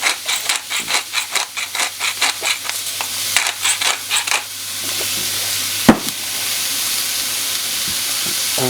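A pound of ground beef sizzles loudly in a close pan while being stirred and scraped in rhythmic strokes, then settles into a steady frying hiss with a sharp clunk near the end.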